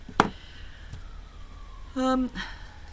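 A distant ambulance siren wails briefly as it passes through a village, a steady tone rising in pitch, heard faintly behind quiet background noise and a few small knocks.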